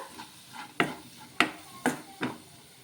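Chicken being mixed by hand with coriander and lemon juice, four soft wet squelching slaps in an irregular rhythm, close and fairly quiet with no talking.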